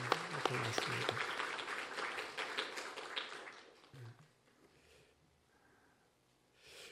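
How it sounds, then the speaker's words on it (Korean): Congregation applause in a Korean church service, dense clapping for the accompanist, conductor and choir that fills the first few seconds and then fades into room quiet. "애썼다고 우리 박수 한번 격려할까요?"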